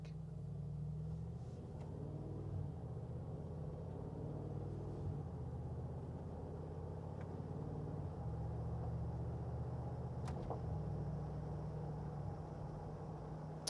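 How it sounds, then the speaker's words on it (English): A 2020 Mercedes-Benz G-Wagon V8 cruising on the road: a steady, low engine rumble with road noise runs continuously and evenly throughout, with no talk. "it's so smooth and so quiet with that really low V8 rumble going on"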